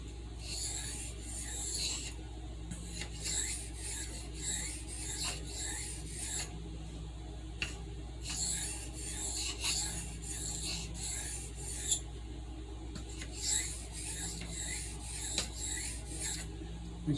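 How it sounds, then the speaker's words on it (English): A Kershaw knife blade is stroked back and forth across a hard Arkansas oil stone, giving a soft, steady, rhythmic rasp in even repeated strokes with brief pauses, close and quiet with no talk. "I'm just trying to basically sharpen the blade"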